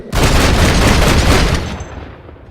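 Gunfire in Red Dead Redemption during an assault on a gate: a loud, dense barrage of shots that roars steadily for about a second and a half, then trails off.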